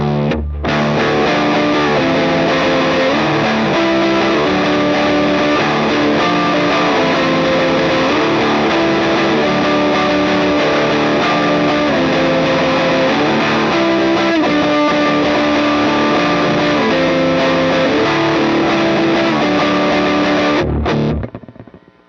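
An electric guitar played through a UA Ruby '63 Top Boost amp rings out loud and heavily distorted with thick sustained chords and layered tones for about twenty seconds before cutting off.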